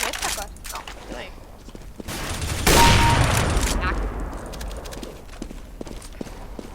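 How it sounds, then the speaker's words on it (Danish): Gunfire in a CS:GO deathmatch rattles out as a dense burst of rapid shots in the middle, with sparser game clatter and footsteps around it and players talking over the action. "Hvor er de der skud fra?"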